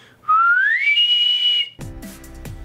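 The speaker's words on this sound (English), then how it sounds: "I can even do this thing called split whistling" A person does split whistling, a rising pure whistle that slides upward and holds a steady high tone with a faint second line alongside, loud and close, followed by some abrupt knocks or handling noise at the end.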